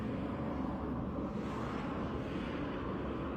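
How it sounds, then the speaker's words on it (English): Helicopter overhead, heard as a steady, distant engine drone and broad low rumble that holds even throughout, with no voices. "Being followed by a freaking helicopter."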